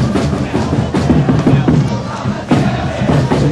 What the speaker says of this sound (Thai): คักเลยนะครับกองเชียร์ของทีมเยือน